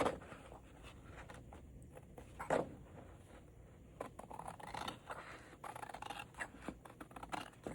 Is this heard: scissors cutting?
yes